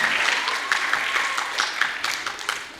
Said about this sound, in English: let's have a big round of applause for Mr. Lucchesi and Mr.